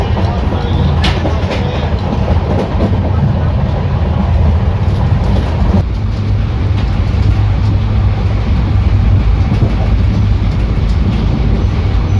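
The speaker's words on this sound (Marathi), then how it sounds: "आपल्याला मनमाड नांदेड पॅसेंजर ट्रेनची क्रॉसिंग झालेली आहे" A Manmad–Nanded passenger train rumbles past nearby at a crossing, loud and continuous, with rolling wheel noise and rattling carriages throughout.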